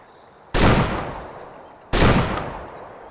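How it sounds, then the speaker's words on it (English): Two loud single rifle shots in the hunting video game Way of the Hunter 2, each a sharp crack followed by a long rolling echo fading out, with about a second and a half between them. "Kind of raise up a little bit here and take our shot on them."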